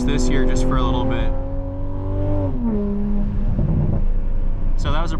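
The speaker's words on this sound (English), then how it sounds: "that was a prime example of me going to like very high RPMs" A 500HP Toyota Supra in track mode revs hard inside the cabin, engine pitch climbing then dropping sharply at a shift, staying loud and close throughout, with a voice speaking over parts of it.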